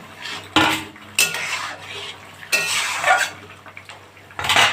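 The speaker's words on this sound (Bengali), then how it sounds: "তো আমি এবার মাছগুলো দিয়ে দিলাম।" Singi fish drop into a pan for a thin fish curry with bitter gourd, bringing loud bursts of hissing sizzle and clattering metal, followed by quieter gaps and stirring scrapes.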